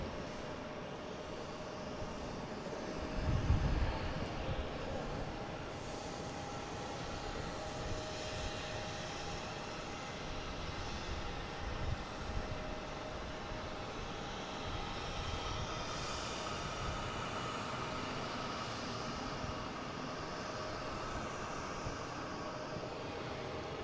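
JetBlue airliner taxiing at Boston Logan International Airport, a low, steady engine hum heard from a distance, faint and unbroken, with a slight bump in loudness early on.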